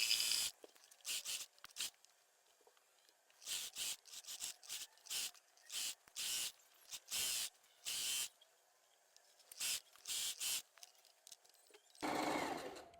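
A domestic sewing machine stitches the crotch seam of elastic-waist trousers, starting with a backstitch: a string of short, even motor bursts separated by brief pauses, close and clear with no talking.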